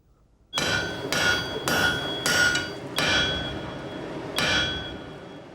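Steel is hammered in a forge to replicate Iron Age hardening: six loud, ringing metallic strikes at a steady, unhurried pace, each leaving a bright, lingering ring, with no talk.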